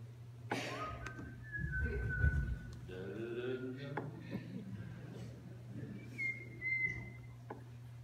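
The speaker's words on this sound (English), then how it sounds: "taught me how to whistle a tune that nobody knows" A person whistles a melody in a room, with steady pitched tones drifting in and out over a constant low hum and some background noise.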